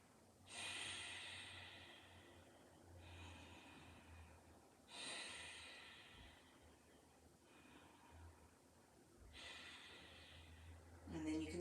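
Slow, audible Ujjayi breaths during a yoga practice, three long hissing inhale-exhale cycles spaced a few seconds apart, close and soft.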